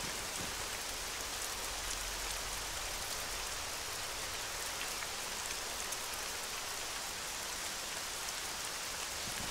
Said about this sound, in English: And the rain is eased off.